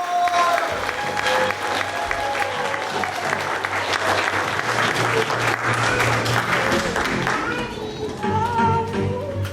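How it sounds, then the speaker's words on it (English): An audience at a young composers' night on the Lower East Side gives loud, dense applause for a band, with cheering voices mixed into the clapping and low tones sounding underneath. "give them the biggest applause"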